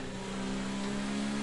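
A race car's engine drones steadily and close at high revs through a wet qualifying session at the Melbourne circuit in an online racing game, heard alone and unbroken.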